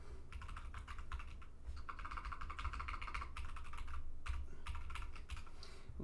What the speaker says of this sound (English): We'll put in our trusty password.